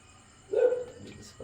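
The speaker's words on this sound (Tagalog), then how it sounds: "Ingay ng mga aso." A dog barks once in a short, mid-range woof outdoors in a backyard bonsai garden. The bark is moderately loud and slightly distant, with faint quieter sounds after it.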